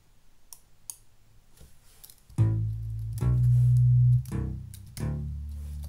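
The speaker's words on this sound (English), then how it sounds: "we're going to choose the one that's called Classic Slap House Bass" Classic Slap House Bass synthesizer patch playing a few punchy, sustained low bass notes, loud and close after soft clicks at the start, with nothing else over it.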